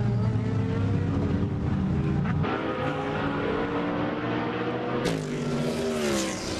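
GT1 race cars, including a Ford GT, roar out of turn 12 at a championship race in Slovakia, engines droning loud and steady with pitch shifting as they pass and a fresh car surging in near the end.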